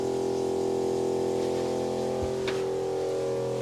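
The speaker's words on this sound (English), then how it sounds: "The water pump running." Freshwater pump running aboard a Hallberg Rassy 69 sailing yacht, a constant steady mechanical hum with strong tonal whine, uninterrupted and fairly close, with no voices.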